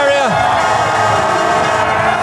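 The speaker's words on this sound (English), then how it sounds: "The crowd go mad in the finish area." A crowd roars and cheers at the finish area of an elite men's downhill mountain bike World Cup race in Haute-Savoie, a loud, continuous wash of sound with an excited commentator speaking over it.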